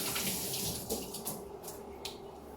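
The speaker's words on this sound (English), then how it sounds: "Let me wash my hands for a second." Water runs from a kitchen tap as hands are washed while making a yogurt cucumber dip, a steady close splashing flow with brief louder splashes, no talking.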